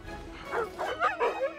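Sled dogs on a film set mocking an Antarctic landscape give several close, loud bow-wow barks and yips in quick succession, about four sharp calls over a low background.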